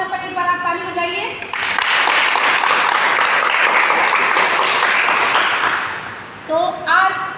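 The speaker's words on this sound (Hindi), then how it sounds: "तो इनके जन्मदिन के अवसर पर एक बार आप ताली बजाइए।" Audience applause at a school birthday tribute to Hindi writer Munshi Premchand: loud, sustained clapping fills about five seconds, rising sharply and fading out, with speech before and after.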